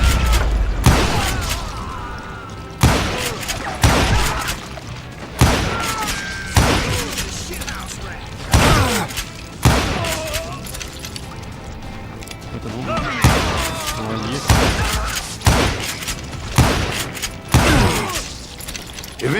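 Gunfire in the Western video game Call of Juarez, with repeated loud shots and booming bursts spaced across the scene, layered over game voices and mechanical clatter.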